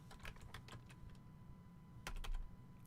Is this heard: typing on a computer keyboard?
yes